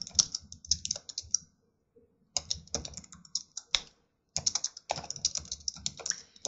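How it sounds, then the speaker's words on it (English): Typing on a computer keyboard in a quiet studio setting, close and clear, in three bursts of rapid, uneven key clicks separated by short pauses. "Now I can keep typing,"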